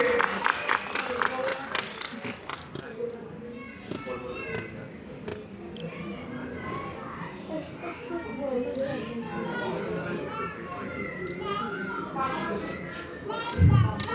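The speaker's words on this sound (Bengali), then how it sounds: "আমি একটি করতালি চেয়ে নেব সবার কাছ থেকে।" Audience applause at a social influence award ceremony in 2024, a dense patter of clapping from a crowd that carries on under the announcer's voice and scattered chatter.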